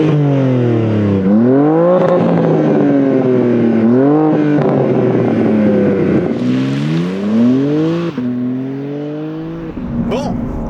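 A BMW M2 G87 engine revs hard while driving, climbing through several gears with rising pitch sweeps and quick shifts, loud and close from inside the car, easing off near the end.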